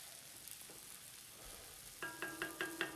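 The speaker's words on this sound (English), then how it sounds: "So this is the beef stock. Gonna give this a nice stir." A pot of beef stock being stirred, a soft liquid swirl at first, then a run of several quick clinks of a spoon against the pot near the end, with no voices.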